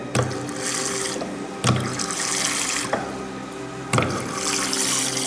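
Muddy water flows steadily from a farm water system outlet, a close, continuous gush and splash with a few louder surges breaking through at intervals, with no voices.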